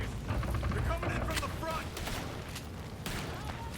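Dynamite explosions in a video game erupt as loud, crackling booms with scattered debris bursts, layered over continuous game noise while a person talks over the action.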